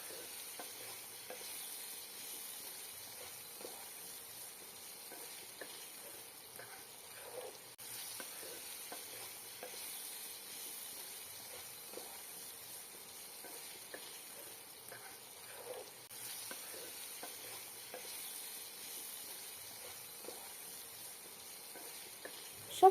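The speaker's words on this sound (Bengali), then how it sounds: "সব সবজিগুলোকে হালকা করে ভেজে নিয়েছি" Pumpkin, turnip and flat beans frying gently in a pan for a spinach ghonto, a faint steady sizzle with scattered soft stirring clicks running throughout, no voices.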